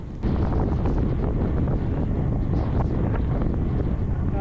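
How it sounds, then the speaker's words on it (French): Strong wind with rain roaring across the microphone of a helmet camera during a long cycling road race, a dense, continuous, loud buffeting rush with no voices. "Beaucoup de vent, de la pluie."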